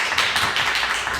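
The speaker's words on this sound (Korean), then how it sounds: "박수 한번 합시다" A church congregation at a Sunday service applauds together, a brief, dense wash of many hands clapping at once with no voices over it.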